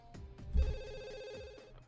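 A telephone rings inside The Sims 2, a short electronic ringing tone with a few soft thumps of game sounds around it, fairly quiet overall.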